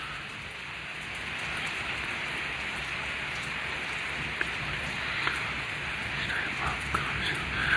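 Steady rainfall in Patan district, Jammu and Kashmir, a continuous hiss of drops on surfaces with a few sharper ticks near the end and no voices.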